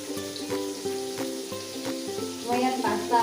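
Five eggs with tomato frying in a pan, a steady close sizzle running throughout and rising slightly at the end, over a faint background hum.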